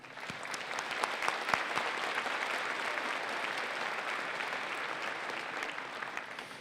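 Steady, dense applause from a large audience at a Ferris State University commencement fills the whole stretch, even in loudness with scattered individual claps standing out.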